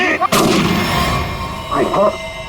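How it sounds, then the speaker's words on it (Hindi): A single sharp, loud gunshot cracks out, followed by a booming echo that slowly fades, then a brief clatter near the end. "किसने गोली चलाई?"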